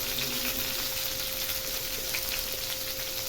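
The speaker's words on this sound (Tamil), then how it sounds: "இது ஃபஸ்ட்டு இது கொஞ்சம் ஆயில்லையே தான் கொஞ்சம் ஃப்ரை பண்ணணும்" Stuffed brinjal fries in oil in a pan, a steady dense sizzle and crackle holding evenly throughout with no voices.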